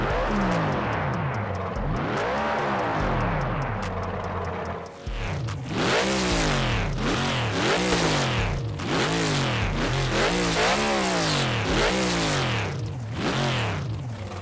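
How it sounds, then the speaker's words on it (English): Racing cars from Project Cars 2 and Project Cars 3 rev hard through repeated gear changes, loud sweeping engine notes rising and dropping in a steady rhythm, with no talking. "The cars in Project Cars 2 sound absolutely ferocious, while every car in P-Cars 3 sounds muted in comparison."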